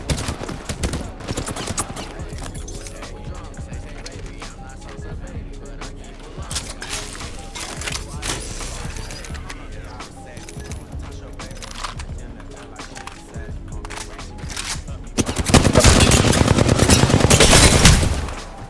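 Video game gunfire crackles almost nonstop during a firefight, with dense shots under a player's talk, growing heavier and louder toward the end.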